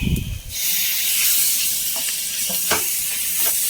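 Chopped tomatoes hit a hot pan for a Kerala-style squid roast, giving a loud initial burst of sizzling that settles into a steady frying hiss with a few soft stirring clicks, no voices.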